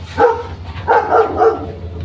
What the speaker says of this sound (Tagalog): At maingay na naman si yung aso ron